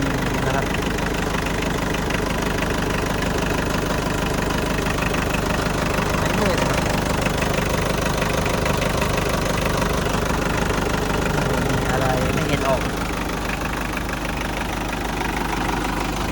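Engine of a newly built pickup dump truck idling steadily and loudly up close, a continuous low rumble with slight knocking texture throughout, and faint voices in the background.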